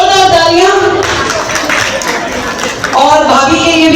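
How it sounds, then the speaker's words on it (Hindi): Audience applause at a Karva Chauth gathering with a chief guest, a burst of clapping under loud amplified talk that stays in the foreground throughout. "जोरदार तालियां।"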